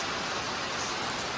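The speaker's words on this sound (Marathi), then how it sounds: "अचानक पाऊस यायला लागलेला आहे" Sudden heavy rain pours down outdoors in Ahilyanagar during the Diwali holidays, a steady, dense hiss of falling water with no pauses, fairly close and uniform throughout.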